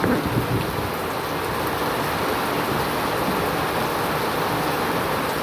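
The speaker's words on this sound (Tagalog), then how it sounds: "Grabing heavy rin ang ulan sa labas." Heavy rain pouring outside in a dense, continuous roar of drops on surfaces, loud and enveloping throughout, with no voices over it.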